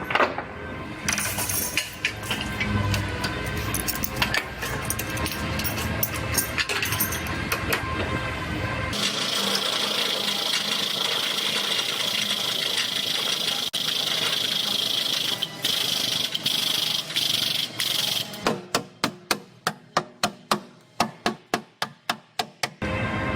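Auto body frame machine pulling a damaged Acura TLX in a body shop, a loud mechanical hum and grinding strain that shifts partway through, then ends in a series of sharp knocks and clanks.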